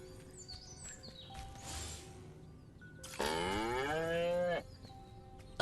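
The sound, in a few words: cow mooing in video game Destroy All Humans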